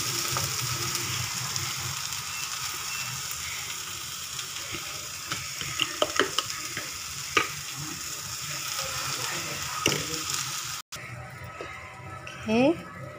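Red capsicum frying in a pan with a steady sizzle throughout, with scattered stirring knocks and clatter and a brief water sound near the end.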